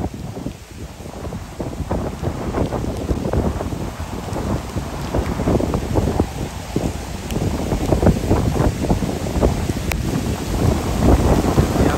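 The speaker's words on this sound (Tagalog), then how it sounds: "Medyo malakas yung alon no, dito." Strong waves surge against the Manila Bay baywalk with a steady, rough wash of water. Gusty wind buffets the microphone throughout, and no one speaks.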